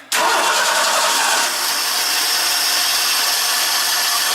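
A 1986 Ford F-150 truck with a misfiring engine cranks and catches at once, then runs loud and close in a rough, continuous roar that eases slightly into an uneven idle.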